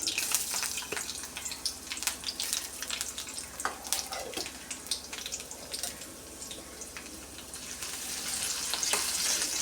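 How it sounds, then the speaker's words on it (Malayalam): Chopped ginger and garlic frying with curry leaves in hot oil for a Kerala egg curry, a continuous crackling sizzle close up with scattered spatters and a brief utensil scrape, no voices. "കറിവേപ്പില ചൂടാക്കുമ്പോൾ ഇഞ്ചി, വെളുത്തുള്ളി ചെറുതായിട്ട് അരിഞ്ഞത് ഇട്ട് കൊടുക്കാം"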